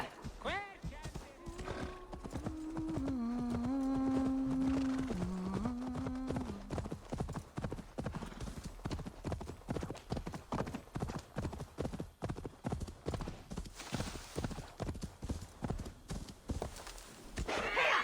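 Hooves clip-clop steadily at close range as a horse in Assassin's Creed Valhalla moves along, with a loud whinny near the start and a tonal in-game voice over the middle. Hoofbeats continue rhythmically through the rest.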